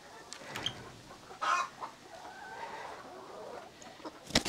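Chickens cluck nearby in a chicken coop in scattered, short calls over a low background hum, with a sharper squawk near the middle.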